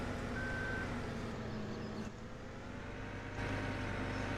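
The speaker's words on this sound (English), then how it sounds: "honestly, that truck is super duper loud" A loud logging truck engine in Farming Simulator 17, on the Belgique Profonde map, drones steadily and close, with a heavy low rumble that dips slightly midway before returning at full strength.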